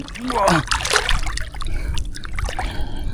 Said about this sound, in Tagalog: Sarap lumublob sa tubig.